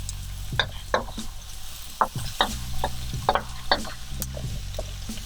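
Shrimp fried rice tossed in a pan over medium-high heat with little oil, giving a steady close sizzle broken by scraping and clanking strokes of a utensil against the pan, with no talking.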